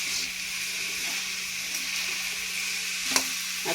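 Grated carrots, about six large ones (roughly 1.5 kg), sauté in a pan for gajar halwa. A steady close sizzle runs throughout, with a brief sharp clink near the end.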